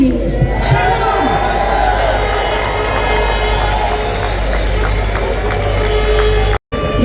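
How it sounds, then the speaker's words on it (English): A large London crowd at a free speech rally cheers and applauds loudly, a dense sustained roar of voices and clapping with whoops, continuous and close, cutting off abruptly near the end. "Let's have an absolutely massive round of applause for Tao, real hero of free speech"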